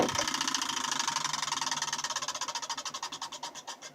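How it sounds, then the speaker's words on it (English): A homemade benchtop disc sander runs alone, a fast rhythmic pulsing whir that gradually slows as it spins down over a few seconds, with no talking. "A homemade bench sander."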